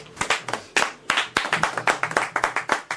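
A church congregation clapping in praise to God, loud sharp hand claps in a quick, roughly rhythmic pattern close by, with no talking.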